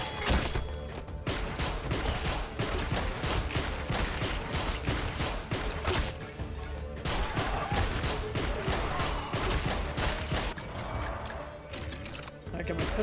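Rapid pistol gunfire in a zombie survivors video game, a dense, steady stream of shots that keeps firing for the whole stretch, loud and near, with busy game effects mixed in.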